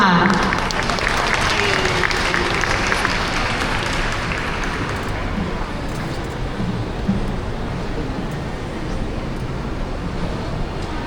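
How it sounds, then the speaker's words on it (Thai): Hall audience applauds a young female singer at a Thai song performance, with loud, dense clapping at first that gradually thins and softens, voices murmuring beneath. "ขอเสียงปรบมือเป็นกำลังใจ"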